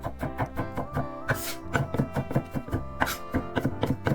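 Rapid, rhythmic knife taps on a cutting board as vegetables are finely minced for Korean bulgogi, close and steady with a few brief pauses.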